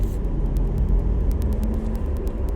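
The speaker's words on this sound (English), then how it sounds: "traffic out here today." Road traffic heard from close by, a dense continuous low rumble of passing cars with steady engine and tire noise and faint rhythmic ticking on top.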